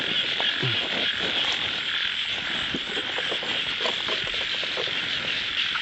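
Frogs croak in a flooded rice field after rain, with many overlapping calls forming a dense, steady chorus and scattered nearer croaks rising above it. Faint insect trilling runs underneath.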